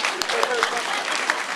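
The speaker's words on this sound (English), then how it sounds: "could we get a nice round of applause for Ernie Lau" A high school town hall crowd gives a brief round of applause for Ernie Lau, a short, fairly loud burst of mixed clapping with voices talking over it.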